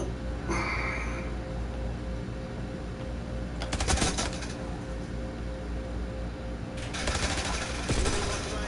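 Bursts of automatic gunfire from the video game Call of Duty Black Ops 6, one around four seconds and a longer cluster near seven to eight seconds, over a steady game background hum.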